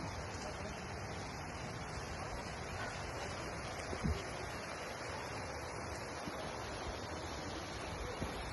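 Constant broadband rush of water from a waterfall, steady and moderately distant, with no clear talking.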